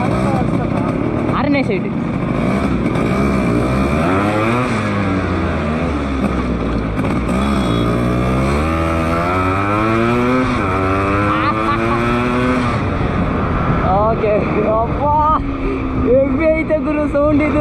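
A Yamaha RX100 two-stroke motorcycle exhaust note while riding, loud and close, with repeated rising and falling revs through the gears and someone talking briefly over it.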